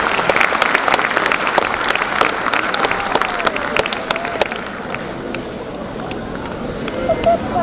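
Hall audience at a school annual day awards ceremony applauding to welcome a guest judge, dense clapping that thins slightly midway then swells again.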